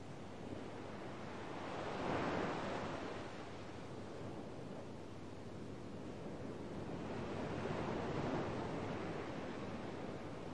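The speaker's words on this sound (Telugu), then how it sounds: "సముద్రం ఒడ్డున వెన్నెల్లో వచ్చే ప్రతి అల మన కాళ్ళను తడుపుతూ అల్లరి చేస్తున్నప్పుడు" Ocean waves wash onto a moonlit seashore in a steady, soft roar that swells twice and then recedes, with breezy wind noise and no voices.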